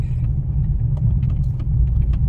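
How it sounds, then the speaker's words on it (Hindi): A car pulling forward in first gear, with a low steady engine rumble close by and little change across the stretch, with no talking. "चलो पहला गियर, एक्सीलेटर को ज़्यादा लेने से कार थोड़ी सी आगे बढ़ जाएगी।"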